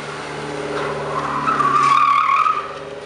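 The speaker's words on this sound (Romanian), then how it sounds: "ai senzația că merge numai în drift" Car drifting on a driving course, its tires squealing in a rising, sustained skid over a steady engine note for about two seconds.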